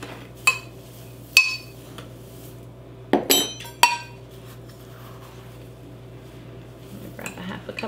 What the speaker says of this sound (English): Grab a half a cup of tea. I'll just flip it right into my little funnel.